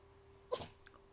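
A single sharp sneeze bursts out near the middle, loud and close, followed by quiet room tone with a faint steady hum.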